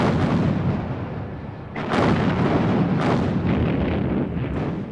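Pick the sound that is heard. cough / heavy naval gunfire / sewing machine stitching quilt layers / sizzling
heavy naval gunfire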